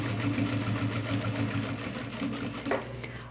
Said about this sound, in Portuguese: agora eu vou passar uma costura de acabamento aqui em toda a volta